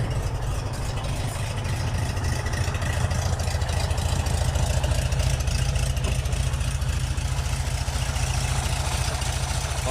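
The original, rebuilt 1200 engine of an old car idles steadily and loudly up close, a continuous low rumble with a fast, even pulse and no voices.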